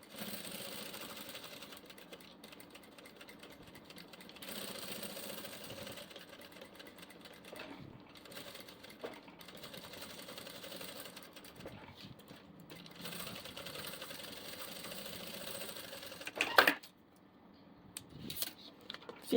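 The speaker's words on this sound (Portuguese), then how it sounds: "vou passar uma costurinha toda a volta" A sewing machine stitches around the edge of a fabric diaper bag in quiet, steady runs of fast mechanical whirring. Short pauses break up the stitching, and faint handling clatter comes near the end.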